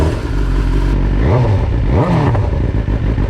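A 2022 BMW S1000R fitted with Black Widow race exhaust headers, loud and close, idling with a rough burble and then blipped through two quick rising revs that fall back again.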